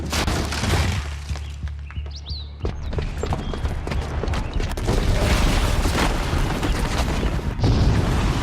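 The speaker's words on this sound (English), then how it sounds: "the booby trap on the bomb downstairs is gonna get set off" A booby-trapped bomb goes off in Horizon Zero Dawn, setting off heavy booming blasts with crumbling, shattering debris. A rumble builds and grows louder toward the end.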